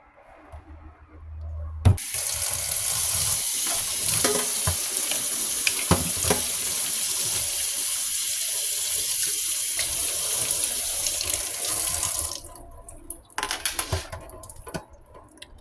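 Tap water runs steadily into a sink as a vintage 1998 Barbie doll's hair is rinsed of conditioner, making a loud continuous splashing with occasional knocks, then stopping abruptly, followed by a few drips and handling noises.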